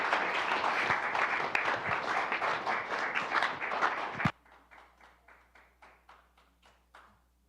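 Audience applause in a small music cafe for a performer, a dense burst of many clapping hands that cuts off abruptly and gives way to a few scattered claps from a handful of people.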